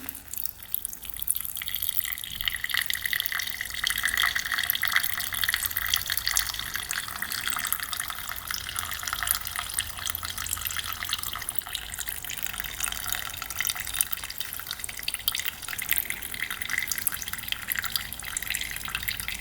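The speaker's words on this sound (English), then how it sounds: "let's see what the gas looks like in the carb here. Drain that." Gasoline drains from the carburetor of a rebuilt Honda dirt bike as a steady, close trickle of liquid with soft dripping, continuing evenly with no talking.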